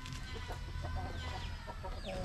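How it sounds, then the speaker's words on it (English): Chickens in a rural Philippine province cluck in short, repeated bursts close by over a steady background hum, with a human voice partly mixed in among the calls. "I'm just gonna hang out with the chickens."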